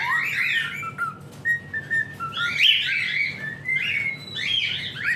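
Cockatiel at a singing-contest breeder's aviary whistling and chirping in short bright bursts and sustained notes, fairly close and alone with no talk.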